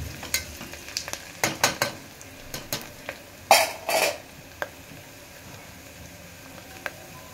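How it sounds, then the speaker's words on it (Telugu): Freshly pounded ginger-garlic paste goes into a pan of softened sizzling onions, with a low frying hiss broken by sharp clinks and scrapes of a spoon against the pan, a brief louder burst midway, no talking. "అల్లం వెల్లిగడ్డ వేద్దాం."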